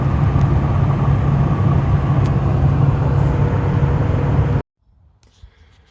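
Loud, steady road rumble and tire drone from a vehicle driving along a road in Wyoming, heard from close by for several seconds before cutting off abruptly into near silence.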